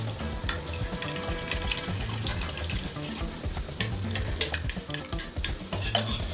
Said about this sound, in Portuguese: Começa a derreter, começa a criar uma espuminha.